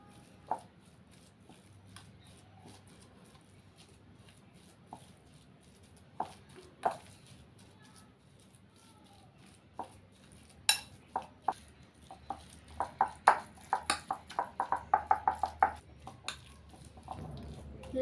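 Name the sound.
mixing raw mango pieces with salt and turmeric powder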